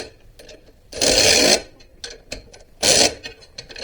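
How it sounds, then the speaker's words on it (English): A wrench tightens bolts on the rear end of a 2007 Polaris Trail Boss 330 ATV. Two loud, rasping bursts of ratcheting come close by, with quieter clicks and taps between them. "And then we'll tighten these bolts up on this."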